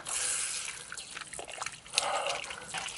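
Water from an outdoor shower on a cold winter day splashes and drips steadily onto the ground nearby, a soft continuous trickle with small spattering bursts and no voices.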